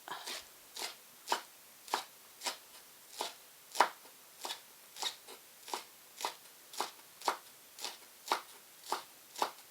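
A knife chops the white part of a scallion on a cutting board, about twenty crisp, evenly spaced close knocks at a steady rhythm in a quiet room.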